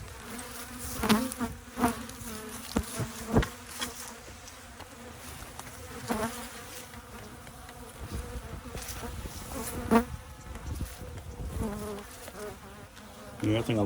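Honeybees swarming around a disturbed, agitated hive, a dense continuous buzzing close by with individual bees droning past in louder swells.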